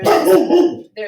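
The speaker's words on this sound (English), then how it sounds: "sorry about the dogs." Dogs bark loudly and close by, giving a burst of barks, a short gap, then one more bark, while fireworks go off around the Fourth of July.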